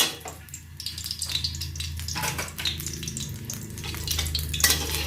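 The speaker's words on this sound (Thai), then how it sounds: "ใส่น้ำมันหมูลงไปเลยค่ะ" Lard sizzles and crackles in a hot wok, a continuous hissing fry with small pops, close up and steady throughout.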